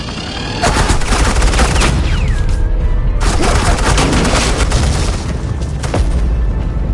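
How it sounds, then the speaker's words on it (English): Heavy sustained suppressing gunfire in Batman: The Enemy Within, a loud, dense barrage of rapid shots and booms that runs almost unbroken for several seconds with no talk. "I said suppressing fire!"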